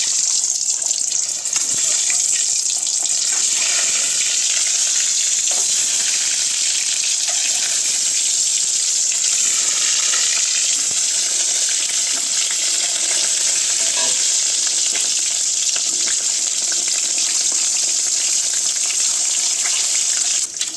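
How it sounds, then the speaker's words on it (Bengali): Continuous loud sizzling of eggs frying in hot oil, a dense hiss that holds steady throughout with no voices. "ডিম ছাড়বো, তেলটা গরম হয়ে গেছে"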